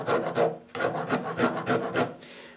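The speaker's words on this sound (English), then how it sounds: "the rasp is good to get started, but it is certainly possible to take off a lot of meat with the rasp" A wood rasp shapes a guitar neck made from scrap wood, giving a run of about eight rhythmic, close, loud rasping strokes with brief pauses between them.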